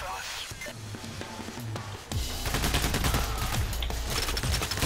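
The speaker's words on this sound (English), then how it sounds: "Where am I getting shot from?" Rapid bursts of gunfire during a PAYDAY The Heist heist, with sharp repeated shots over a constant noisy background that gets denser and louder midway through, no talk heard.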